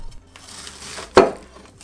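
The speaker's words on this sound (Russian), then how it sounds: "И нарезаем тонкими полосками." White cabbage is sliced into thin strips with a knife, giving one close, sharp cut against a wooden board over a faint background, with no voices.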